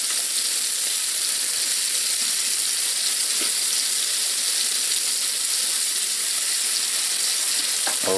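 Scallops searing in a hot pan without butter give a steady, close, loud sizzle that runs unbroken, with no talking over it.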